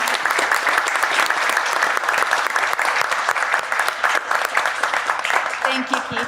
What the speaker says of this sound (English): I'd like you to give a big round of applause to Michael Bausch+Lomb.